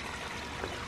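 A small garden fountain waterfall splashes in a soft continuous stream, faint and close, with no voices over it.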